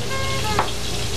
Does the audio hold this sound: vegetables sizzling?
yes